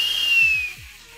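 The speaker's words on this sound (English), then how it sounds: "I'm still trying to whistle." A person attempts to whistle, producing one thin, wavering whistle tone that holds for most of a second and then fades, with a few low soft thumps underneath.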